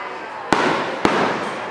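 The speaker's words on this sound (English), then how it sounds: "I'm at Generations Park watching the fireworks" Fireworks explode at an outdoor park celebration, two sharp booms about half a second apart, each followed by a crackling shower of sparks.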